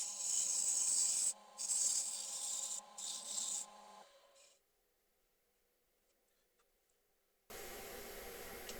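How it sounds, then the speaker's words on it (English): An oscillating power sander works a wooden bowl turned from a single board, loud hissing rubbing in bursts that stop for a few quiet seconds before resuming. "Time for some sanding."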